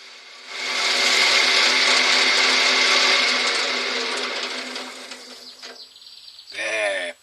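A wood lathe spins a wooden spinning top while polish is buffed onto it, a loud whirring hum with rubbing friction that fades as the lathe slows, then a brief burst of noise at the end.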